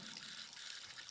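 Water from old school pipes overflows and splashes, a steady close hiss of gushing and spattering liquid running without a break and with no voices.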